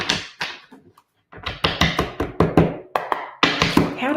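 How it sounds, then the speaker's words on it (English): Tarot cards being shuffled in the hands, a rapid run of crisp riffling taps and slaps that comes in bursts, with a short pause before a denser stretch of shuffling. "One more shuffle."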